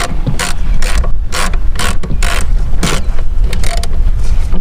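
A ratchet clicks in quick repeated bursts while loosening the fitting on a ZZP high flow air intake, close and loud, with short pauses between strokes.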